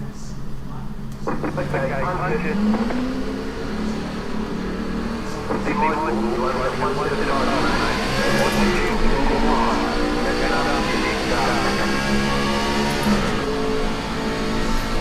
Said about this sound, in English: Start the engine up, just get ready.